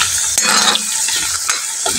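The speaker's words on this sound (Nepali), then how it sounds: "अब यसलाई चाहिँ गोल्डन ब्राउन हुँदासम्म फ्राई गर्नुपर्छ" Potato pieces frying in a pan until golden brown, a loud steady sizzle broken by a few sharp stirring scrapes and clatters, close up and without talk.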